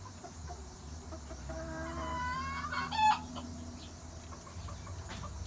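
Chickens cluck and squawk in a coop at feeding time, a steady flock chatter with one louder call rising near the middle, no talk over it.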